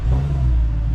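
A Dodge SRT Demon 170 revving on its trans brake, a loud, close, deep engine roar holding steady for a brief moment with no talk.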